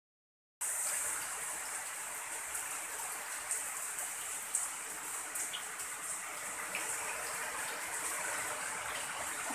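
Rain falls steadily outdoors, a soft continuous hiss with scattered drips and splashes into a container, fairly faint and even after a brief silent start, with no voices.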